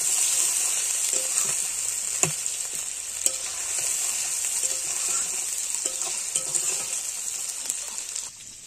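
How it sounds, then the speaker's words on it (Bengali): A masala of cumin paste, ginger paste, turmeric, salt and chili powder fries in a pan while being stirred, giving a steady close sizzle broken by occasional scraping clinks of the spoon, with no talking. "মশলায় দিয়েছি জিরে বাটা, আদা বাটা, হলুদ, নুন আর লঙ্কা গুঁড়ো দিয়ে ভালো করে কষিয়ে নেব মশলাটাকে।"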